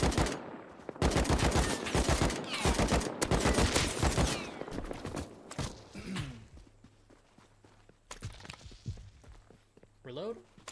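Gunfire in a Rust PvP fight: rapid bursts of automatic shots crackle loudly through the first half, then fade to sparse single shots and footsteps, with someone talking in commentary over it.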